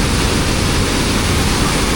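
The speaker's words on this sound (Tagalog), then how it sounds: "Grabe lakas ng agos ng tubig dito." Strong river current rushing between rocks on a route from Sultan Kudarat to Sarangani, a loud, steady broadband roar filling the whole clip with no pauses and no voices.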